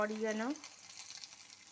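Garlic stirred in hot oil and ghee while herb rice is being cooked gives a steady, close sizzle and crackle. A brief voice-like tone opens the clip, and then the frying runs on alone.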